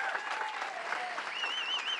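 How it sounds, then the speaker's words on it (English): A crowd applauds steadily for Terry DiCarlo, head of the GLBT Center, at a Pulse remembrance gathering, with dense sustained clapping mixed with a few voices and a whistle-like tone. "Big round of applause for Terry."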